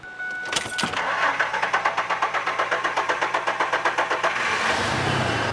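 A car engine cranking and catching after a loose oxygen sensor on the exhaust manifold is tightened: a rapid even chug of starter strokes, then the engine settles into a steady running hum, close and loud.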